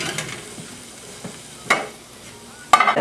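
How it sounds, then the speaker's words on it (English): Shrimp going into a hot pan with butter and herbs, giving a soft, steady sizzle with a few scraping stirs and sharper clinks of a utensil against the pan, close and fairly quiet. "Okay, we're going to get the shrimp in here now."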